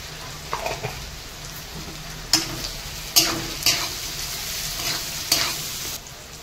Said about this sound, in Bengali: ডুমুরগুলো আমাদের হাফ ভাজা হয়ে গেছে